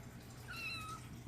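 A kitten with chipmunk-like coloring gives a single short, gentle meow, close and clear over faint background noise.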